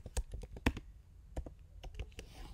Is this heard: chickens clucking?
no